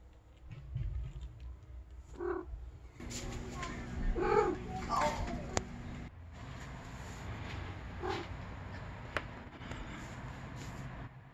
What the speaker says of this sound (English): makes this weird brrrt sound every time she's taken by surprise or really